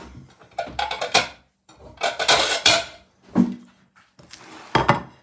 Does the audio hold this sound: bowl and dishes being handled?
yes